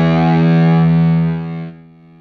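A distorted electric guitar plays through a 2-watt amp into a 4x12 cabinet, striking one loud chord that rings steadily before fading out near the end.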